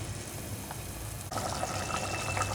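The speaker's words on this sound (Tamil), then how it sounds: "இது கொஞ்சம் நம்ம தண்ணி ஊற்றிக்கலாம்." Water is poured into a pot, a steady splashing rush that starts partway through and continues to the end.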